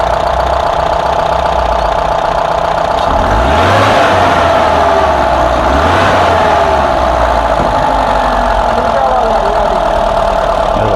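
A Mahindra Bolero Pickup CNG engine, recently repaired after an accelerator misfire, idles loud and close, then revs up sharply twice, each rise swelling and falling back to a steady idle.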